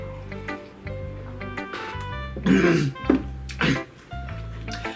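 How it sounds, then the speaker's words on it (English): A voice clears its throat with a few rough, gravelly bursts over a steady game music backdrop, fairly close and moderately loud. "Let me clear my throat."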